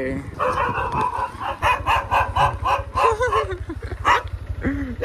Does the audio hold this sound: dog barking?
yes